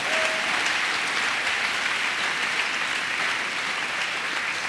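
A church congregation applauds in a dense, steady wash of clapping that holds at an even level throughout, with no voices standing out.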